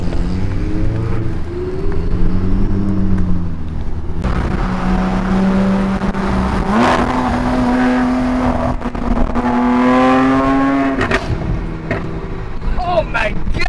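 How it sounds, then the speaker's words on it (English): A loud green Lamborghini SVJ engine revs and climbs in pitch with deep throaty rises at a cars and coffee meet, wind buffeting the microphone and voices faintly mixed underneath. "Oh my God, that thing sounds nasty. A green SVJ Lamborghini."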